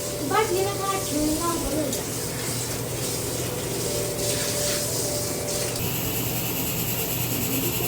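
Water splashes and swishes steadily as spring onion greens are rinsed and rubbed, a continuous close wet rushing with faint kitchen background.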